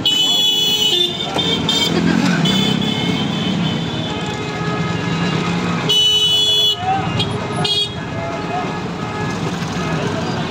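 A cheap hired vehicle carries passengers on the road to Mathura and Vrindavan, with a loud, steady engine and road rumble broken by horn toots and short gaps. Voices talk over the noise.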